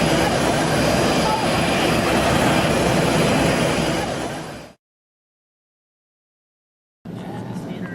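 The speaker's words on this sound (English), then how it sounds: "We're on board a special test flight of the new Boeing 787 Dreamliner" Boeing 787 Dreamliner jet on a test flight, a steady loud broadband cabin roar of engine and airflow that fades out, goes silent, then returns abruptly.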